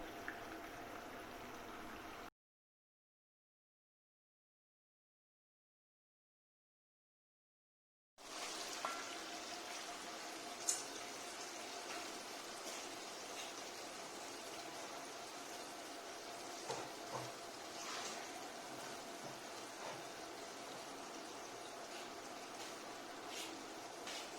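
Mutton korma simmers in a covered pot after two bowls of water are added, giving a steady, soft bubbling and liquid hiss that runs continuously, with a stretch of complete silence near the start.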